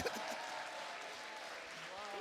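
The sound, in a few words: audience applause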